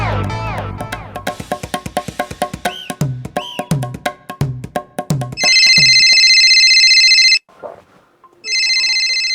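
A mobile phone ringing with a bright electronic ringtone, two loud sustained bursts with a short gap between them, following a stretch of plucked, rhythmic music.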